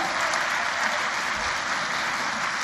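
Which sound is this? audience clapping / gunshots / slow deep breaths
audience clapping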